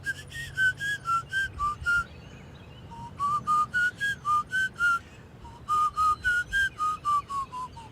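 Whistling by one person in short melodic phrases, each a string of quick chirpy notes, with brief pauses between three bursts; clear, close and alone.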